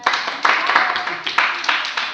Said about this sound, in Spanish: Dese un aplauso a usted mismo.